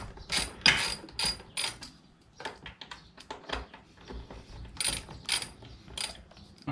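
A ratchet unbolts the bottom screws on a Honda XR80R dirt bike, giving rapid close clicking bursts in several short runs, with small metallic clinks between them.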